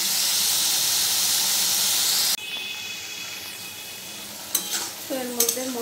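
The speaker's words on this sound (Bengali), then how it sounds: "তো এর মধ্যে মশলাগুলো দিয়ে একটু কষিয়ে নিলাম।" Potato and jackfruit with ground turmeric, cumin, coriander and chilli sizzle in a hot pan under a loud steady hiss, then quieter frying with scraping stirs and a few clatters of the spoon near the end.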